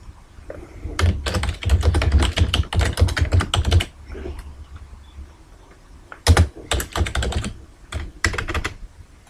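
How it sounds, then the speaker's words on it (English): Rapid keyboard typing in two bursts, with many crisp, close key clicks in quick succession, during work in Microsoft Visio 2010 on a cross-functional flowchart, with a quiet pause between the bursts and no talk. "click on the second function box once, twice, and press the function key F2"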